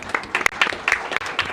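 Audience applause at a public hearing on the quality of life of transplant recipients: a short burst of dense clapping from a seated crowd, about a second and a half, steady and fairly loud with no voices over it.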